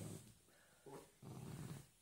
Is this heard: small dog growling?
yes